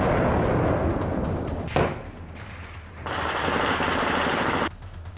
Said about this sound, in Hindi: फायरिंग का शोर और धमाकों की आवाजों ने पाकिस्तान से लगी हिंदुस्तान की सीमा पर नींद खराब कर रखी है।